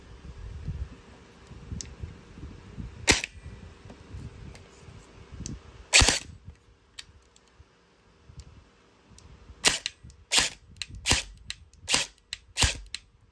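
Short bursts of sharp clicking shots from an LPAEG airsoft gun on full auto: a single crack, another a few seconds later, then a rapid run of loud snaps near the end, over a low background hum.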